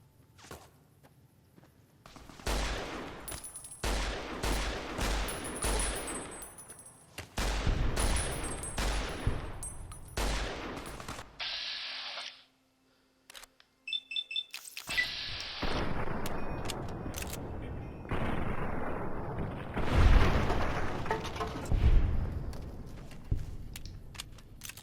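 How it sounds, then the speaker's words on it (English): Gunfire in Fallout: New Vegas, with rapid bursts of loud shots and cracking reports in clustered volleys, a brief quiet gap, then more sustained firing and impacts. "Who's shooting at me?"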